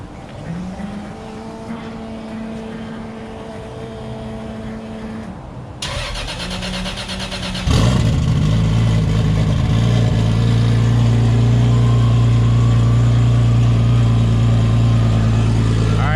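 A Toyota Supra engine cranks and fires up in a garage, settling into a loud, steady idle with a deep rumble that dominates after a quieter stretch.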